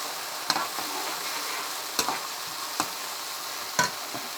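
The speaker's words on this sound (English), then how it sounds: "I added the cooking wine. I'll mix well" Beef stir fry with cooking wine being stirred in a hot pan, a steady sizzle broken by several sharp scraping strokes of the utensil against the metal.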